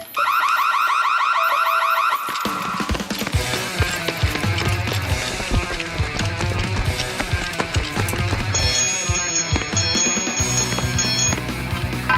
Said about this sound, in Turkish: vericiler derhal kontrol kutusuna sinyal gönderir ve alarm çalmaya başlar